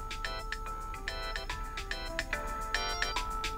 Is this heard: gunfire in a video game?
no